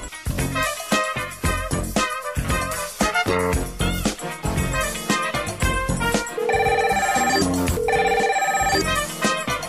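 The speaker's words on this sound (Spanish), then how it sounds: "Tenemos nuestra primera llamada." During a radio call-in program, a telephone rings in two repeated electronic bursts near the end, mixed in over loud, busy music that plays throughout.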